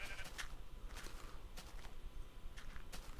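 Sheep in Minecraft bleat in short, repeated calls over a noisy game background, several bursts spaced close together across a few seconds.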